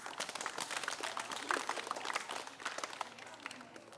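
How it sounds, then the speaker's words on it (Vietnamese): Audience applauding two winning quiz teams at a children's event, a dense patter of many hands clapping at a moderate level and tapering slightly toward the end, with no talk. "Chúng ta hãy dành một tràng pháo tay thật lớn để chúc mừng cả hai đội."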